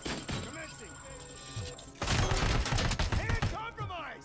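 G11 rifle fire in a first-person shooter game, rapid loud bursts dominating the second half after quieter game sounds, with someone talking over the action.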